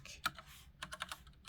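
Computer keyboard typing a search query, a quick run of crisp close key clicks with uneven rhythm, one louder keystroke near the start, no talking.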